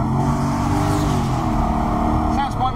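A car engine revs up with a throaty, rising roar, heard close by, with a brief voice near the end.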